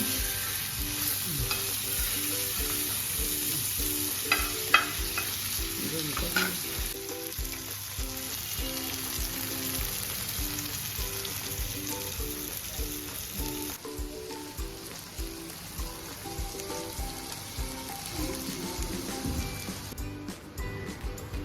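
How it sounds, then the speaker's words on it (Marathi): Bombay duck (bombil) fish fry in a pan on both sides until crisp, giving a continuous soft crackling sizzle with occasional stirring and turning sounds, fairly quiet and with no talking. "आता बोंबील आपण दोन्ही बाजूने चांगले असे फ्राय करून घेणार आहोत, खरपूस होईपर्यंत"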